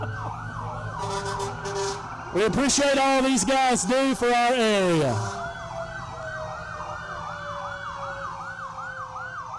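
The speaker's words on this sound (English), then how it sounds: "every siren works wonderful" Loud wailing fire truck sirens sweep up and down at a Christmas parade, joined by a blaring horn blast in the middle, while someone talks over them.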